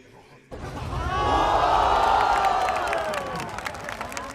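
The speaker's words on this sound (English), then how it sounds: "that cheering was- for ASE right there" A large arena crowd at VALORANT Masters Tokyo cheering for ASE, a sudden roar that swells and holds loud for several seconds, with voices mixed in.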